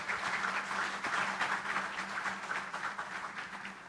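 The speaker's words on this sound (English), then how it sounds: "let us give the biggest round of applause for everyone here" Applause from a conference audience in Indonesia on sustainable finance and economy, a steady wash of many hands clapping at moderate distance, fairly soft and continuous throughout.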